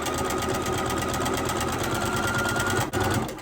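A sewing machine stitches quilt fabric in a fast, steady mechanical hum with rhythmic needle clatter, running continuously and close by with a brief hitch near the end.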